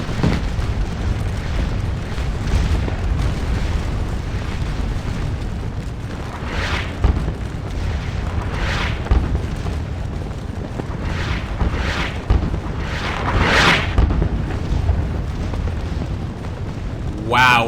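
Musket volleys and artillery fire at a Napoleonic Waterloo battle in the video game Scourge of War: Waterloo. A low rumble runs throughout, with repeated booming bursts scattered across it, and a commentator talks over the gunfire at times.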